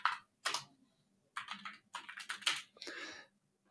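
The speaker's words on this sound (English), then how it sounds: "if I learn how to type." Computer keyboard typing in quick close bursts of keystrokes with brief gaps between them.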